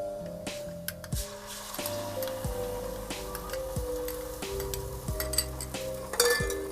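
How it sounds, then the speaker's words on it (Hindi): Ginger garlic paste fries in oil with browned onions for a home masala chicken, giving a soft continuous sizzle broken by repeated light clinks and scrapes of a stirring spoon against the pan, with no voices. "अब मैं इसमें अदरक लहसुन का पेस्ट डालती हूँ।"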